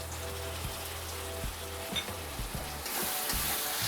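Finely chopped tomatoes tipped onto fried onions for mutton keema, giving a soft steady sizzle in the pan with light stirring knocks and a brief hissy surge near the end.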